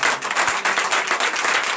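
A congregation at a church service claps in a brief, lively burst of rapid, overlapping hand claps, close and fairly loud, with no one speaking over it.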